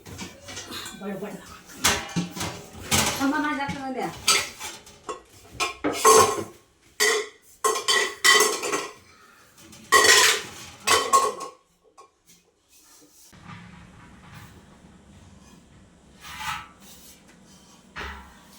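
Pots and dishes being scrubbed and washed at home, with repeated clattering metal knocks, scraping and rubbing in busy bursts, then a quieter stretch with a low hum and a few light clinks; a person talks at times.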